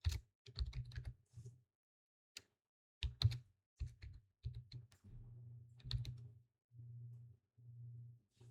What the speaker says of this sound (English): Let's type OpenRouter.